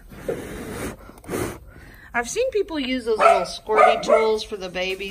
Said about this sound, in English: They only like to bark when I'm actually making a video.